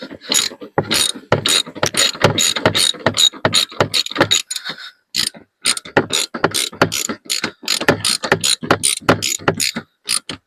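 A ratchet socket wrench tightens bolts on a Yamaha YFM 250 Bear ATV after an intake boot and coil are fitted. Quick, loud clicking strokes repeat in uneven bursts close by, with brief pauses between them.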